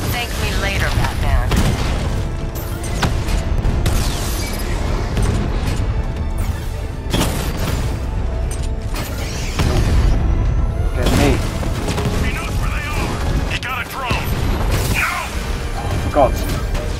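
Gunfire and heavy explosions from the video game Batman: Arkham Knight rumble and crash loudly throughout, with booming impacts and dense combat noise mixed under game dialogue.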